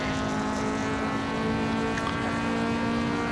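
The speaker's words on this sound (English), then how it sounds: "That 4AG sounds insane." A Toyota 4AG engine in a drifting car in Assetto Corsa holds a steady, buzzy high-revving drone, loud and continuous with no voices over it.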